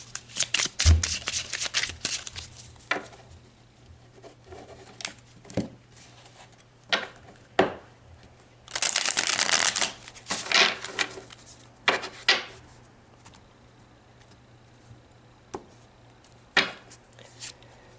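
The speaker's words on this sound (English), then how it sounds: "So let's pull some more cards." Oracle cards being shuffled by hand, a run of papery riffles and slides in bursts with one long dense stretch partway through, close and fairly loud, with short pauses between and no talk.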